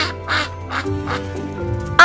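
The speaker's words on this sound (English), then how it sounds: "I see a yellow duck looking at me." A cartoon duck in an animated children's picture-book read-aloud quacks several times in a steady rhythm, loud and close, with a narrator's voice running underneath and a final sharp quack at the end.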